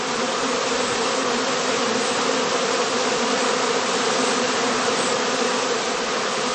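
Dense, steady buzzing of foraging honeybees swarming at the entrance of a heather straw skep in a heathland apiary, a continuous close drone with no voices.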